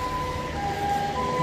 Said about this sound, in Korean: 지금 앰뷸런스 소리입니다.